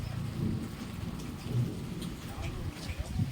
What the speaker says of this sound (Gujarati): વરસાદ પડી રહ્યો મસ્ત વરસાદની મોજ